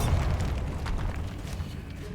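A Bombarda blasting spell in Hogwarts Legacy lands as a low, rumbling boom with a deep thump that lingers and fades slowly, moderately loud and heard without talk.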